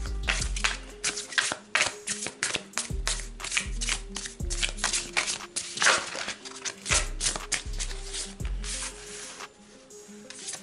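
Oracle cards are shuffled and laid out for a reading: close, rapid riffling and soft slaps of card stock in repeated bursts, with background music underneath and no voices.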